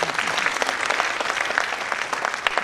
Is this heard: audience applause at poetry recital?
yes